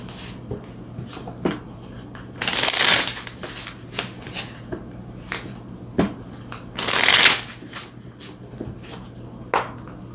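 Tarot cards being shuffled, two loud riffled shuffles ringing out clearly between softer card taps and handling sounds, close up with no talking.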